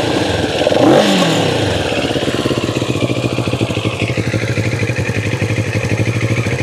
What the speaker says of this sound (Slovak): výfuku sa ozýva pekný zvuk dvojvalca